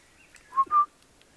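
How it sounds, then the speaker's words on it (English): Two short whistled notes in quick succession, fairly close and clear, over a quiet background. "so the guys are whistling."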